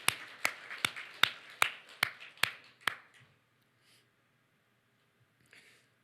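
A few people in a church congregation give eight sharp, evenly spaced claps in unison, close and clear, then fall silent with faint murmurs after.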